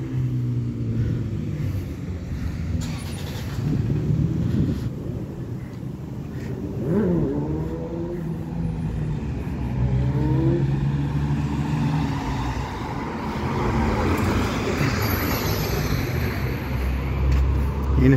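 A motorcycle revving hard on a busy commercial street in Durango, engine pitch climbing and falling through several accelerations amid steady traffic rumble, fairly close and loud.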